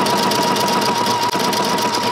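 A sewing machine fitted with a three-hole cording foot stitches yarn onto fabric, a loud, close, steady mechanical whir with a fast even hum and a brief dip midway.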